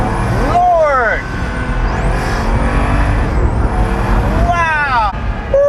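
A Pagani Huayra's turbocharged engine revs loud and close, rising and falling in several sweeping surges with turbo whistles on top, while people's voices can be heard over it.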